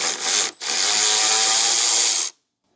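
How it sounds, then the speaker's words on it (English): A power tool spins off a 10mm grounding nut on a 2025 Volvo XC60, a brief buzzing whir, a short pause, then a longer continuous whine that cuts off abruptly, loud and close. "That's a 10mm nut that I'll remove."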